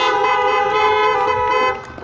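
A car horn sounds steadily for about two seconds as a tone with many harmonics, then cuts off. It comes at an outdoor meet-the-candidates event for the Abbeville County Council race.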